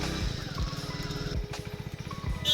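A motorcycle engine sets off with close, rhythmic low chugging pulses that rise and fall as the throttle opens, heard alone without talking.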